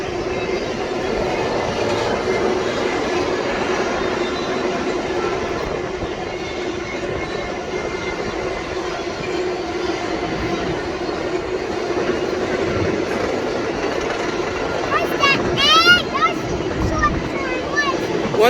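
A BNSF intermodal freight train passes at speed in western Arizona with a loud, steady rumble of wheels and cars, rising squeals near the end, while people talk over it.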